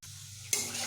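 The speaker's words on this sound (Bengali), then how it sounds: "এবার আমি এখানে শুধুমাত্র আলুগুলোকে দিয়ে দেব" Potatoes land in a pan of spice paste that is being browned, setting off a sudden loud sizzle and crackle of frying over a steady background hiss.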